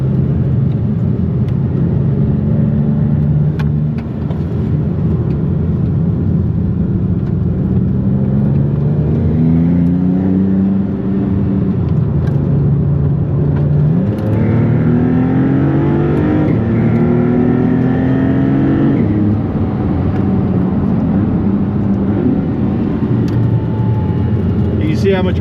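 A 640 hp Maserati GT2 Stradale engine drones loudly and continuously through a hot lap at The Concours Club Miami, revs swelling and dipping through gear changes, with people talking inside the car.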